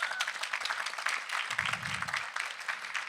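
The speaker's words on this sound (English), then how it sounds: "So if I can get a round of applause for their help." Audience applause at a presentation on Alzheimer's clinical trial recruitment, a soft, dense patter of many hands clapping that stays fairly faint and even throughout.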